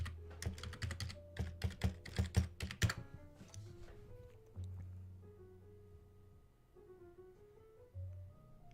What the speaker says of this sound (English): Let me just type that in, see what the definition for force field says.